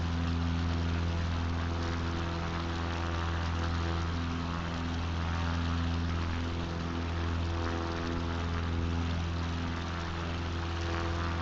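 A six-cylinder aircraft engine idles with a steady, loud, even drone that holds unchanged from start to end.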